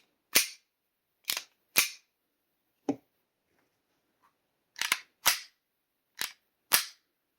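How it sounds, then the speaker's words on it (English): Eight sharp gunshot-like cracks from a custom STARS pistol built on a Beretta 92, fired in separate clusters with pauses between, loud and close with nothing else heard. "Now listen to his custom STARS pistol."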